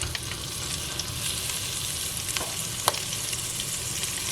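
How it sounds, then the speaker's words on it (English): Smoked sausage sizzles steadily in a frying pan being prepared for a pasta dish, a dense continuous crackle with occasional louder pops, close and alone without talk. "dumping the sausage in here"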